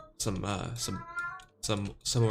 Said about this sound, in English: My cat is yowling for some reason.